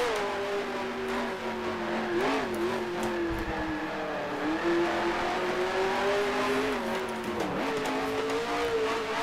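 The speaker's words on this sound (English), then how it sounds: "The car bogs down so much here, though." The race car's engine in the Grand Prix Legends game drones steadily and loudly, rising and dipping in pitch as it bogs down and strains through low gears, with no talking.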